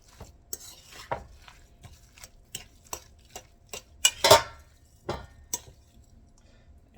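Meatloaf ingredients being mixed in a bowl, a series of distinct clinks, taps and scrapes of a utensil against the bowl in an uneven rhythm, close up and fairly quiet.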